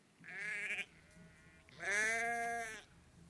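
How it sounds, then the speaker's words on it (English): Two quiet sheep bleats, a short call followed by a longer wavering one after a brief pause, heard on their own. "And these are sheep."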